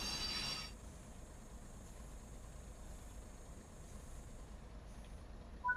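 A train's emergency brake in Train Sim World 4 releases a brief, bright hiss of air, then drops to a low, steady rumble of the slowing train, quiet and even.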